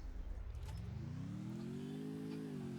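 A motorbike engine in a battle royale video game revs upward steadily, its pitch climbing over a few seconds beneath faint background noise.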